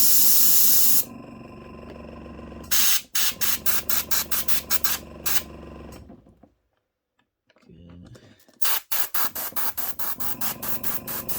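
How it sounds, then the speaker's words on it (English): An airbrush sprays paint onto a model locomotive tender in steady hissing bursts, broken by rapid pulsing on-off spurts and a brief silent gap, close and fairly loud. "use the air from the airbrush to kind of blow the excess paint around"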